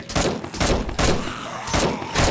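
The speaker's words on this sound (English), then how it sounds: "I can shoot through this." Several loud gunshots from the 7 Days to Die video game, fired through a barrier, come in about five sharp bursts at a steady rhythm. No one speaks.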